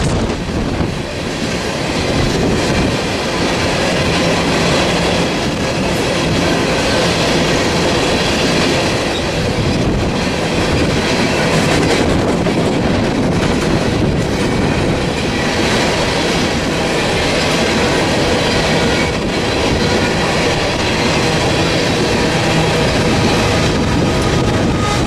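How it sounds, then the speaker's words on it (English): A BNSF SD70ACE diesel locomotive rumbles past hauling a long empty coal train, wheels clacking and squealing continuously on the rails, loud and close. "BNSF SD70 ACE 8760 was leading this empty coal train back to the mines in Wyoming."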